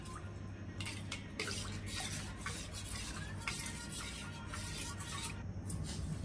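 Spoon stirring a kharvas mixture flavored with nutmeg in a bowl, a steady close scraping and swishing that runs continuously without pause, no voices over it.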